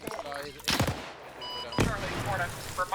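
Video-game gunfire crackles through a fight as several sharp shots burst out, two loud cracks standing above a continuous rattle of combat noise and a commentator's voice.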